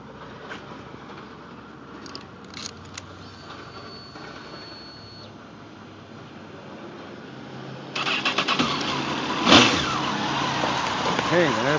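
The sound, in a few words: 2002 Honda CBR954RR motorcycle engine starting and revving, stock exhaust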